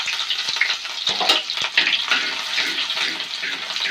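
Onions fry in a pan for a fish curry, giving a bright, hissy sizzle that runs continuously with small crackling flare-ups and a fairly loud, close sound.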